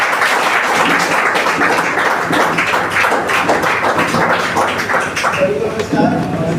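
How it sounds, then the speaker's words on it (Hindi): Loud, dense applause from a large audience at a gathering, steady and continuous from start to finish with scattered taps and thumps mixed into the clapping. "एक जोरदार तालियां हम सभी के लिए"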